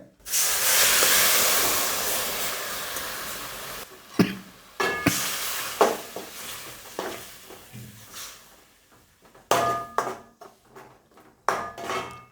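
Blended tomato puree from two large tomatoes poured into masala frying in oil, setting off a loud burst of hissing sizzle that fades over a few seconds, followed by scattered clanks and scrapes of a spoon stirring in the pan.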